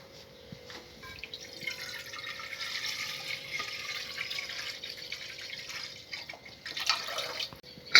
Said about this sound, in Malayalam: കുക്കറിൽ കുറച്ച് വെള്ളം വയ്ക്കണം അപ്പോൾ വെള്ളം എടുക്കട്ടെ